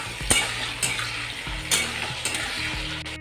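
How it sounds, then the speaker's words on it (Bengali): Potatoes fry in oil in a pan with bay leaves, a steady close sizzle broken by several scraping stirs of a spatula against the metal. "আলুটা প্রায় আমার লাল লাল করে ভাজা হয়ে গেছে।"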